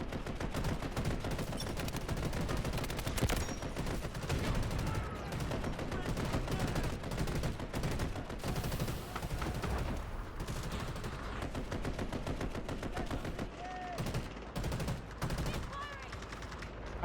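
Sustained automatic fire from a Gatling gun in the Delta Force video game, a dense, continuous rattle of rapid shots lasting throughout with almost no gaps, loud and close, with occasional voices under the gunfire.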